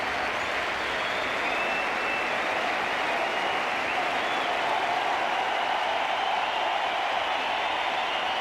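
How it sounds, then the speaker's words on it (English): A large crowd at the Sydney Cricket Ground cheers and applauds during a 1994 World Series Cup one-day international between Australia and South Africa, a dense, unbroken roar of clapping and shouting that holds steady and fills the whole stretch. "Huge cheer from everyone here."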